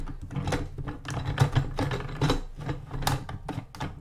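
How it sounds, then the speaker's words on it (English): Racing wheel being adjusted and clamped onto a desk: close, irregular clicking, rattling and knocking mechanical noises in quick succession, fairly quiet with no talk. "You can probably hear a bunch of wheel noises right now,"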